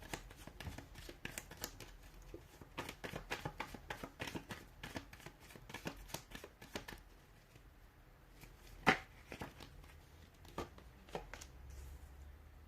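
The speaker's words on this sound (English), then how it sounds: "give the cards a shuffle" A deck of tarot cards is riffled in quick crisp bursts, a flurry of soft snapping, then a few scattered taps, close and fairly quiet.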